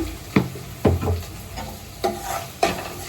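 Ginger garlic paste frying in a pan while being stirred, a soft sizzle broken by a few sharp scrapes and knocks of the spoon, close and without talk.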